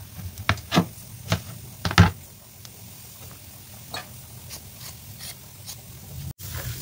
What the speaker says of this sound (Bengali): তো একটু বিনস কাটছি, এটা আমি ঝোলেতে দেবো।